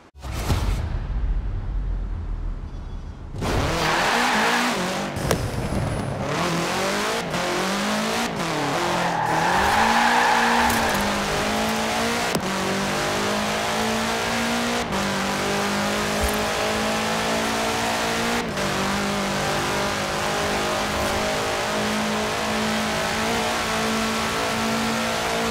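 A 1966 Volkswagen Beetle fitted with a 2.5-litre turbo engine races in Forza Horizon 4, its engine revving hard through repeated rising sweeps and gear changes after a short quiet opening, loud and close.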